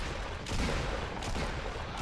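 Dense burst of gunfire during a competitive Fortnite match, a continuous noisy crackle of shots filling the short span with no voices over it.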